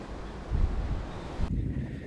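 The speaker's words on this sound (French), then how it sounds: "malgré le vent qui souffle en tempête" Strong stormy wind buffets the microphone at a race circuit, giving a rough, gusting low-frequency roar that swells and eases, with no voices.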